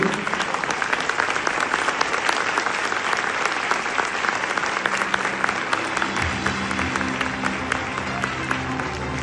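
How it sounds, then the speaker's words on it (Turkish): A standing audience at a Turkish awards ceremony bursts into sustained, dense applause, loud and even throughout, with crowd noise and a low musical tone rising underneath in the last few seconds. "hepinizi şöyle ayağa davet edip bir ayakta alkışlamaya davet ediyorum"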